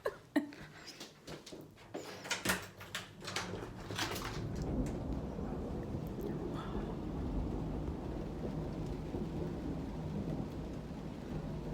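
Thunder rumbling during a storm, opening with a few sharp cracks and then rolling into a long, deep, continuous rumble over steady rain, moderately distant and unbroken by talk.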